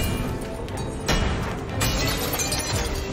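Objects smash and shatter in Detroit: Become Human, a dense, loud wash of crashing debris with sharp bursts of breaking glass near the middle and end.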